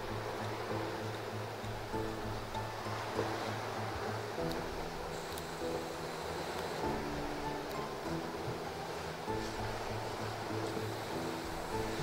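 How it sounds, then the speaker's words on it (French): Sea waves at high tide wash in a continuous broad roar, steady and enveloping without distinct breaks, with a low rumble underneath. "Marée haute."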